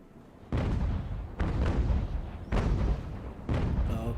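Broadside cannon fire from sailing warships in the naval game Ultimate Admiral: Age of Sail, four heavy booms spaced about a second apart, each rumbling and decaying before the next.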